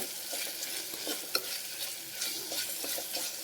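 Ginger garlic paste frying in a pan for aloo matar pulav, a steady close sizzle with occasional stirring scrapes and one sharp clink, no talk.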